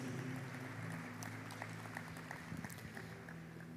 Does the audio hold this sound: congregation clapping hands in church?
yes